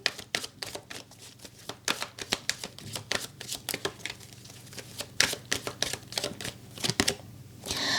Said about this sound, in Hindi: हम यहाँ पर थोड़े से क्रिस्टल्स के कार्ड लेंगे।